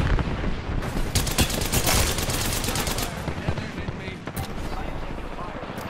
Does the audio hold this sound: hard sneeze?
no